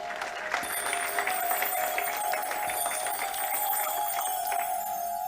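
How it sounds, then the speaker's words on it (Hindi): An audience claps in welcome for a speaker at a Hindu religious discourse, sustained even applause throughout with some crowd noise. "पूज्य शास्त्री जी को हम व्यासपीठ की ओर ताली नाद से हृदयपूर्वक स्वागत करें।"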